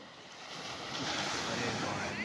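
Ocean waves roll in on Betalbatim beach in Goa on a morning, a steady loud wash of surf with wind noise that builds slightly midway and continues throughout.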